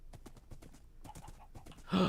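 Horse hooves clip-clopping in the Minecraft video game on HermitCraft, a quick run of light rhythmic steps at moderate distance, ending with a brief louder burst of game sound.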